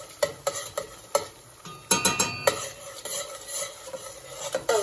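Tomato paste and herbs being stirred in a cooking pot for jollof rice, with repeated sharp utensil clinks and scrapes against the pot over a soft sizzle, close and uneven in rhythm.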